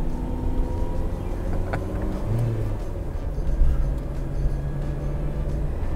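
A 1987 Yugo 55A with a small Fiat engine cruising at about 70 km/h, giving a steady, thin, tinny engine drone with road and wind noise throughout, no voices.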